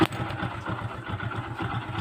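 A Honda XRM125 motorcycle engine runs steadily just after an overhaul with a new connecting rod and cylinder block, its close, even idle putting out a rapid low thumping that continues throughout without any voices.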